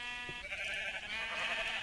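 A sheep bleats a few short times in a Minecraft modpack, faint and brief against a quiet game background.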